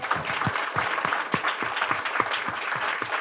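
An audience at a live finance podcast recording applauds its hosts. The sound is a loud, dense burst of many hands clapping together, with a few sharp individual claps standing out and no break for the full duration.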